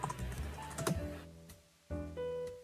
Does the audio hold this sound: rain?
no